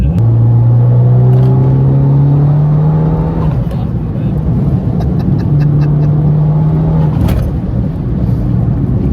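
A big-turbo Abarth 595 accelerates hard with wheels spinning in third gear, a loud droning engine note rising steadily, dropping at a shift, then climbing again, heard from inside the car with voices talking over it.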